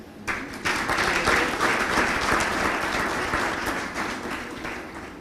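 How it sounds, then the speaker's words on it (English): An employers' conference audience breaks into steady, full applause after a brief quiet start, holding a dense clapping wash at a fairly even level for several seconds. "I think the congregation was mean with the applause."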